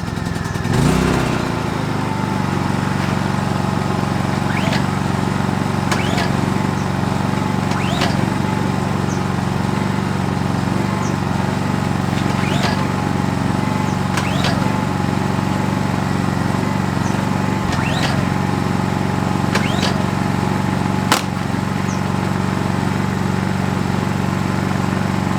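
Two Honda EU22i portable inverter generators, a while since last run, drone steadily at a close distance after pull starting, a continuous engine hum with faint clicks and knocks over it and no speech.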